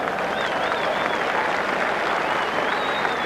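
A large Fijian crowd at a 1987 Rugby World Cup match against Argentina cheers and claps loudly, a dense, steady roar of voices and applause with occasional whistles rising above it.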